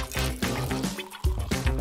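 Water poured into a blender holding aloe vera gel, a close, gurgling pour with bubbling pitch rising in uneven bursts and a brief pause midway.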